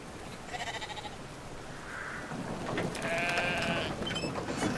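Sheep in Brothers: A Tale of Two Sons bleat several times over a steady ambient background, with one louder, longer bleat toward the end.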